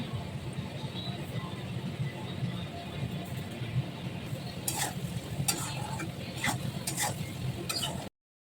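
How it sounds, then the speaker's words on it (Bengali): Potatoes fry in a pan, a steady soft sizzle of oil with occasional clicks and scrapes of stirring, fairly quiet and close, with no talk over it. "এই যে আলুটা লাল লাল করে ভাজা হয়ে গেছে"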